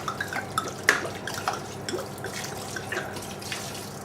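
Wine marinade is poured over chicken pieces for coq au vin, giving light, irregular drips and small splashes of liquid, quiet and close, with no talking.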